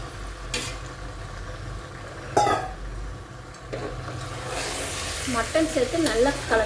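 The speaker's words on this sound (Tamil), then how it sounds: "மட்டன் சேர்த்து நல்லா கலந்து விடுங்க" Mutton stirs into frying masala in a pot, producing a continuous sizzle punctuated by a few clanking spoon strikes against the pan, growing busier and louder near the end with scraping and bubbling.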